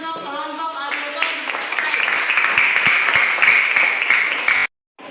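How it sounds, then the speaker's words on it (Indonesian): A classroom audience applauds a student group, a voice speaking first before a burst of close hand clapping swells and continues steadily, then cuts off sharply. "tepuk tangan dulu untuk kelompok auditor."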